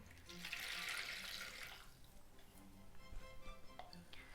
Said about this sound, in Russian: В емкость для смешивания вольем 300 мл теплой воды